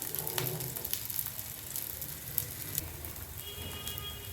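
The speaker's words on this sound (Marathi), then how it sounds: "तर आपण ह्याच्यामध्ये शॅलो फ्राय करून घेणार आहे." Potato patties shallow-fry in oil in a pan, a close, quiet sizzle with scattered pops and crackles over a few seconds and no voices.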